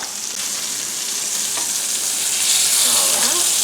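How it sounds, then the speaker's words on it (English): A beef roast browns in an electric skillet, giving a steady close sizzle and fry hiss that swells slightly louder toward the end, with faint scraping and no voices. "we're just going to patiently wait while that browns"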